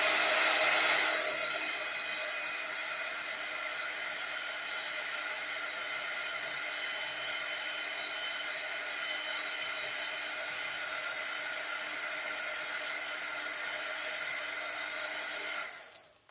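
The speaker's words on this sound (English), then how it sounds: "we're just going to use the heat gun and heat these up" A heat gun blows hot air over embossed paper for a papercraft project, a steady, close whirring rush that holds for about fifteen seconds before cutting off.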